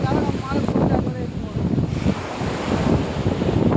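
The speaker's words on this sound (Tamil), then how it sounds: "அலை வரும் பாருங்கள்." Sea waves rolling onto a beach in summer, a steady loud wash of surf with heavy wind buffeting the microphone throughout.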